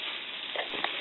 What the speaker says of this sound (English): I'm just going to saute those until they're fragrant.